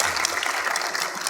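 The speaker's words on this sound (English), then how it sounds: "They want to applaud you." Audience applause at a church seminar session, a steady dense wash of clapping throughout the short stretch, moderately loud and with no voices over it.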